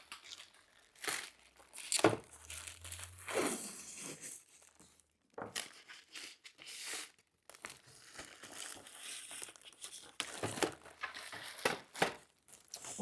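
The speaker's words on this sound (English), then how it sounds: "So this is painter's tape, which doesn't really leave residue." Painter's tape crinkles and tears in close, irregular bursts as it is handled and pressed on around a picture, with quiet gaps between the crumpling sounds.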